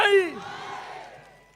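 A Thai political rally crowd, Red Shirt supporters at a campaign stage, lets out one loud collective shout that swells quickly, then trails off and fades over about a second and a half.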